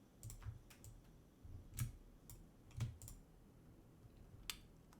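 Computer keyboard arrow keys pressed in scattered single taps, faint and close, with irregular gaps between clicks and no talking.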